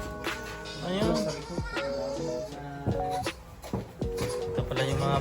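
Goats on a farm in Canada bleating repeatedly in wavering, overlapping calls, fairly close, with some people talking among them.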